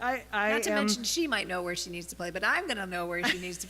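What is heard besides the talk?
None of the usual background noises is heard.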